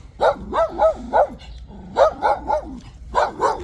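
Several dogs bark in quick bursts, two clusters of sharp barks separated by a short pause, fairly close and loud.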